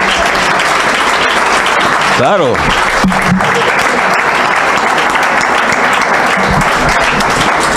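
Applause from the audience at a colloquium honoring a Guadalajara concert organization, dense loud clapping throughout, with a brief spoken word and a short tonal sweep partway through.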